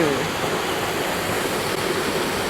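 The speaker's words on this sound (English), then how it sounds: "Another waterfall." Steady broadband roar of a waterfall in lush green countryside near Banfora, Burkina Faso, loud and continuous throughout with no talk.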